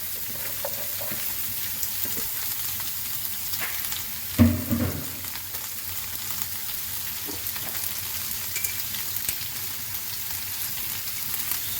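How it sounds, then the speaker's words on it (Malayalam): Sliced onions sizzle steadily in a hot pan while a mutton kurma is cooked, with a brief louder clatter of stirring partway through over a constant, close frying hiss. "അതിനുശേഷം നമുക്ക് സവോള ഇട്ട് കൊടുക്കാം."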